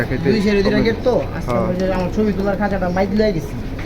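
Pigeons in a collection coo in soft, low, repeated throaty calls beneath almost constant nearby conversation.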